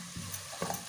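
Onions softening in a pan with a pinch of salt and black pepper, a faint low sizzle broken by two or three soft stirring scrapes over a short moment.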